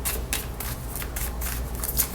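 A deck of playing cards riffled and shuffled for a tarot-style card reading, a quick run of crisp flutters and snaps close to the microphone, with no voice.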